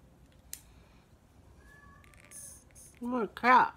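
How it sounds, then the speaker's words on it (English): A house cat gives two loud, close meows near the end, after a mostly quiet stretch that has faint chirps and a brief click. "What a cat."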